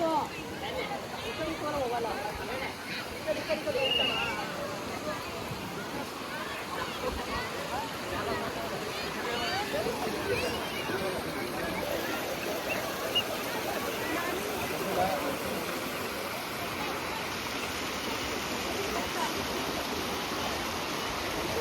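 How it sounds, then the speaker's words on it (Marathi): Water rushes at the Amboli reverse waterfall, a steady broadband roar of flowing and splashing water that fills the scene, with a busy crowd of voices murmuring underneath throughout. "ते बघा रिवर्स पाणी येते"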